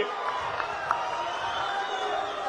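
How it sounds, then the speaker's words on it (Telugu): Crowd at an Andhra Pradesh auto-driver scheme launch event clapping and cheering in a steady, dense wash of noise, with a few louder shouts poking out briefly. "గట్టిగా చప్పట్లు కూడా చెప్పండి"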